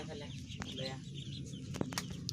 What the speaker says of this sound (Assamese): হাঁহগিলা গেংগি আহি আছে